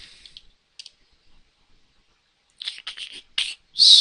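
Computer keyboard typing a search: scattered light key clicks at first, then a quick, close flurry of taps near the end, crisp and fairly quiet with no voices.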